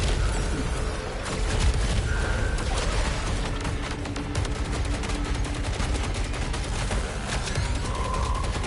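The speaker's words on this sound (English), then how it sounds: "Oh, laser turrets." Laser turrets fire in the video game Saros as dense bursts of rapid zapping shots, a steady barrage over continuous game noise with a few brief tonal chirps, fairly loud throughout.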